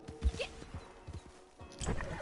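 Horse hooves clip-clopping with a short whinny in the video game Red Dead Online, heard during outdoor treasure hunting; a few scattered hoof thuds, a brief neigh early on, and a louder burst of movement near the end.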